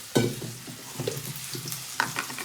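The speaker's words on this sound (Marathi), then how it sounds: "अच्छा, तर इथं मस्त अशी खीर शिजते." Kheer simmering in a pot while being stirred, giving a steady close bubbling sizzle with scraping stir strokes at irregular intervals, no talking.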